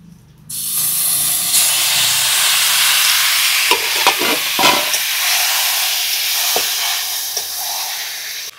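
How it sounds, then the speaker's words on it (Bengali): Marinated chicken hits hot oil tempered with cumin, dried chilli and bay leaf, giving a loud steady sizzle, with scraping stir strokes heard midway and no talking. "20 মিনিট হয়ে গেছে, মেখে রাখা মাংসটা এবার দিয়ে দিচ্ছি।"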